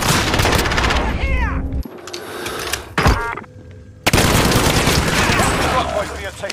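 Gunfire erupts in the Call of Duty Warzone video game as loud bursts of rapid shots and booms, broken by brief quieter gaps and a sudden return to dense firing.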